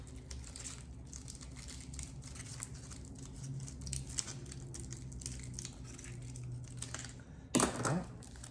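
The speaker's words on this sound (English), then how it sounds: "I'm just gonna cut it" Scissors snip through material being trimmed to cover holes, producing a steady run of close, crisp crinkling cuts that ends with a louder rustle and clatter near the end.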